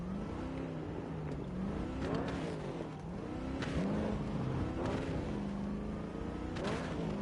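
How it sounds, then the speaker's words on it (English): A car engine in the Cyberpunk video game hums steadily and rises and falls in pitch as it revs and shifts, with a continuous, fairly loud drone throughout. "This car does sound quite nice"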